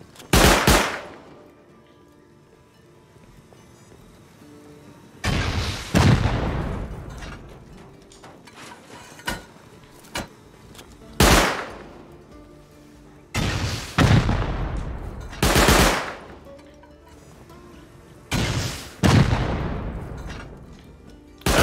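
An auto turret in Rust Console Edition lets loose repeated bursts of heavy automatic gunfire, separated by short lulls and ringing loudly with booming echoes.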